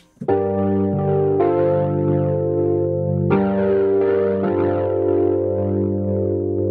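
Sustained electric piano chords with a shimmering, wavering chorus ensemble and a light spring reverb tail, compressed, played loud and alone with two chord changes.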